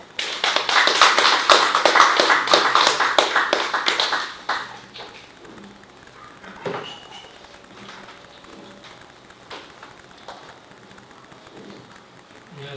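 A lecture audience applauds to welcome a speaker, dense clapping for about four seconds that then cuts off into a quiet room with a few faint knocks and rustles.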